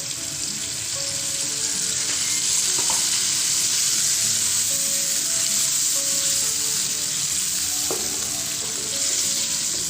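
Spiced tuna sizzles loudly and steadily in a pan after water is added. The frying hiss is continuous and close, with a few faint clinks underneath.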